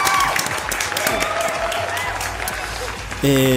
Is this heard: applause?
yes